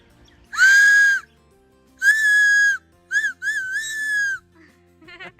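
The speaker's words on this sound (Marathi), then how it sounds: "ज्यांना अशी शिट्टी वाजवता येत नाही ते असे शंख वाजवून मोठा आवाज करू शकतो आपण" A shrill whistle is blown through a shell held between two fingers: two long steady blasts, then a few short chirping bursts, loud and close with nothing else around.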